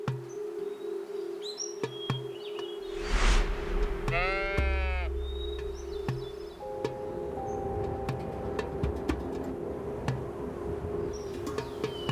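A single loud, wavering bighorn sheep bleat rings out in the mountains, followed by chirping birds and a steady background hum over outdoor ambience.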